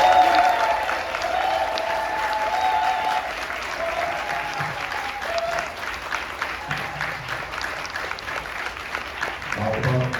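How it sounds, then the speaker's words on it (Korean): A crowd at a community political forum breaks into sustained applause that swells at first and stays steady for around ten seconds, with a little talk underneath. "박수 정말 받습니다."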